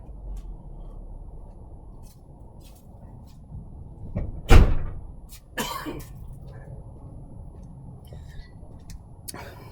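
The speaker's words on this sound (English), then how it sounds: "Let me shut the other door." A single solid thump of a car door slamming shut at mid-distance, followed by a softer rattle, over steady outdoor background noise.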